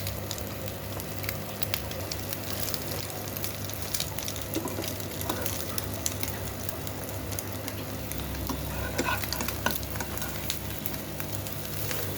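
An egg spread thin in a pan sizzles steadily for a breakfast dish, a continuous close crackling hiss with faint scraping and no voices.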